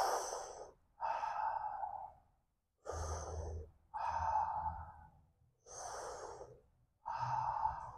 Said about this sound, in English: Breathe in with our mouth.